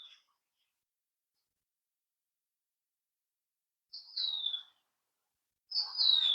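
A mockingbird outdoors in a yard, mimicking another bird, gives two brief, bright chirping phrases separated by long silence, fairly faint and distant.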